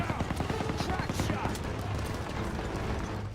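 In the Call of Duty WW2 game, rapid machine gun fire rattles in dense, fast bursts near the listener, layered with mechanical clatter and battlefield noise, with no voices heard.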